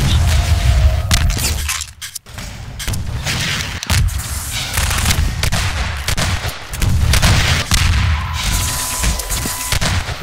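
Gunfire in Half-Life 2 Deathmatch, a dense run of loud shots and booming blasts, some sharp cracks and shattering, continuing with brief gaps across the whole stretch.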